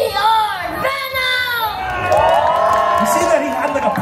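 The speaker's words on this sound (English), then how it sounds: "the crowd has to decide via, you know, applause or shouting or whatever" A comic convention crowd at a cosplay contest shouts and whoops loudly to vote for a contestant, with children's voices rising in sustained cheering, heard from within the crowd.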